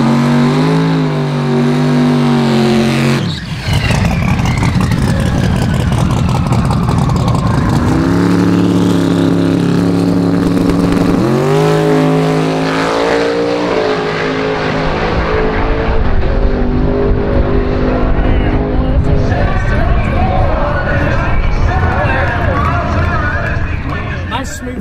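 A loud, roaring 4,500-horsepower drag car engine revs up and down repeatedly at a drag racing event, its pitch sweeping higher with each burst, under crowd noise and commentary.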